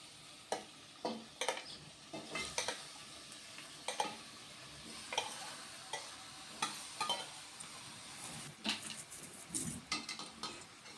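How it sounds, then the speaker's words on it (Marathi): Marinated mutton frying with onion in oil for a Kolhapuri tambda rassa, a soft sizzle beneath repeated sharp scrapes and clinks of a spoon stirring in a metal pan, coming in irregular bursts. "कांदा आपला थोडा मऊ झाला की मग आपण ह्याच्यामध्ये घालणार आहोत मॅरिनेट करून ठेवलेलं मटण"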